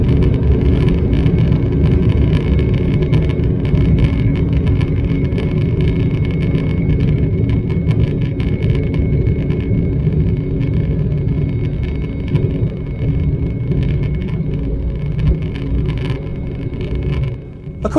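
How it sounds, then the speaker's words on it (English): British Airways CityFlyer jet engines at full takeoff power roll at London City, heard from inside the cabin as a loud, steady roar and rumble that eases slightly near the end. "the engines are spooled up to pretty much full beans with the anchors on. Then the brakes are released and you absolutely shoot off."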